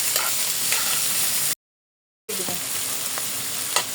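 Fried bitter gourd goes into a hot pan for a country chicken curry, and a loud, steady sizzle of frying fills the scene with stirring clatter. A short silent cut breaks it, then the hiss resumes.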